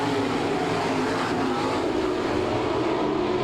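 Dirt-track race cars of the NCRA All Stars series at Salina, Kansas, roar together after a green-flag restart, a dense, loud, steady engine drone with no break.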